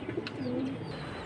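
A large domestic fancy pigeon in a big cage coos in a low, drawn-out call, heard alone and fairly close against soft background hiss.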